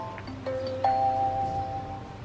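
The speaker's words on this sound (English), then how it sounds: "I have the chime on and we will know when the camera detects the motion." A Maximus floodlight camera's motion alert chime sounds as two clear sustained electronic tones, the second higher and longer, ringing alone over a faint background hum.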